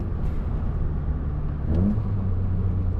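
Nissan Pulsar GTi-R engine giving a single quick throttle blip, a brief rise in revs over a steady close idle rumble, with no talking.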